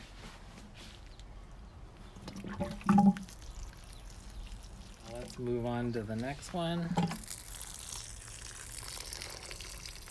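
Papaya plants are watered from a container in a spring garden in Palm Springs, with short bursts of pouring water splashing onto soil between stretches of quiet, while someone talks.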